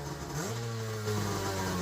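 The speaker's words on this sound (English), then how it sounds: "If you listen close, you can hear the engine backfire slightly because there was rust in the carbs" Sea-Doo HX jet ski engine with rust in the carburetors, running with a steady, close mid-pitched drone that swells as the revs climb, carrying a faint rough, uneven edge.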